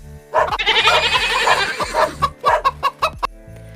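Recorded farmyard calls: a chicken clucks and squawks alongside a bleating goat, several sharp repeated calls in quick succession, close and loud, with no voice over them.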